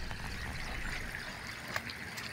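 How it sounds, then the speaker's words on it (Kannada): Floodwater after late-night heavy rain flows across Aluru road in Chitradurga, a faint, steady rushing and trickling wash with no talk over it. "ಇನ್ನು ವಾಹನ ಅಂತೂ ಹೋಗೋದಕ್ಕೆ ಚಾನ್ಸೇ ಇಲ್ಲ ಅನ್ನುವಂತಹ ರೀತಿಯಲ್ಲಿ ನೀರು ಹರಿದು ಹೋಗ್ತಾ ಇದೆ."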